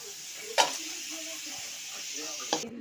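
Potatoes frying in oil in a kadai, giving a steady soft sizzle throughout with two brief louder clatters of stirring, close by and alone without talk.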